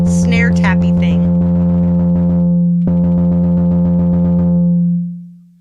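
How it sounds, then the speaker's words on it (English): A snare-like tappy drum sound built from a synth tone with white noise on the ANALOGyDR drum synth app, a rapid run of loud, close hits over a sustained tone that fades out at the end. "That's how you get that little snare tappy thing."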